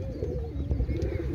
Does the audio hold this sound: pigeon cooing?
yes